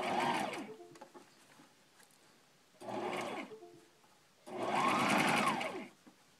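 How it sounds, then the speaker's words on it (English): A sewing machine sews through elastic on a cloth face mask in three close bursts of rapid stitching whir, the last one longest, with quiet pauses between runs. "So I'm going to sew through these pieces of elastic and everything"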